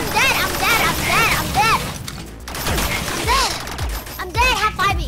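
Bursts of gunfire in a robot apocalypse video game, rapid shots and crashing impacts arriving in clusters under excited players' talk, with whining synthetic tones between volleys.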